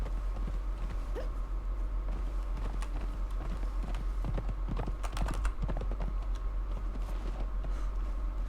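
Horse hooves clip-clopping in the game Conan Exiles, a steady quick run of hoof beats over a constant low hum, at moderate volume, with no talking.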